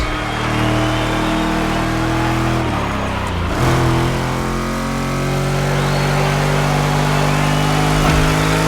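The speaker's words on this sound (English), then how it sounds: "Let's hear these engines." Car engines rev loudly and continuously in the racing game The Crew Motorfest, with a steady mid-pitched roar that dips briefly and then climbs again.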